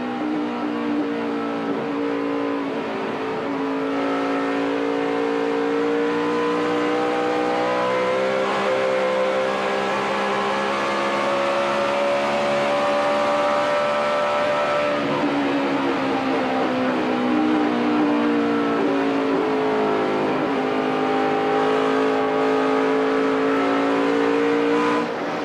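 Mark Martin's Hendrick Motorsports NASCAR Sprint Cup stock car at Atlanta roars from onboard, its engine note rising and falling as it shifts through the lap, loud and continuous, no voices.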